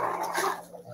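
A dog gives a short, close whimper with a few yelping cries that fade within a second, heard alone.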